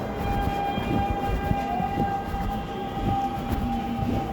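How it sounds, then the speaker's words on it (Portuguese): A train pulls away from Guilherme da Silveira station in Bangu, giving a steady, loud rumble of wheels and carriages with thin whining tones running over it and no voices. "Enquanto observo o trem seguir o seu caminho"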